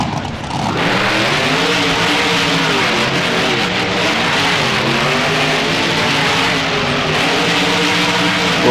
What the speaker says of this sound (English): Both trucks roaring out of Thunder Alley